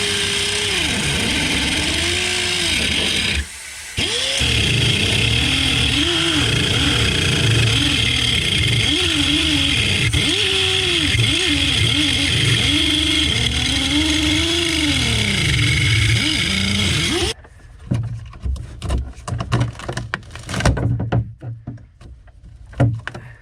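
A power saw blade cutting between the hull and plywood transom of a Glastron Carlson CSS16 boat: a loud, close motor whine that rises and falls in pitch as it loads, with a brief drop near the start, then cuts out into scattered clattering.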